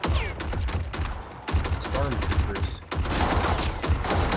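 Enemy gunfire in the video game Mortal Kombat 11: rapid, sustained automatic bursts crackle loudly throughout, with brief mechanical clatter and a voice talking over the shooting.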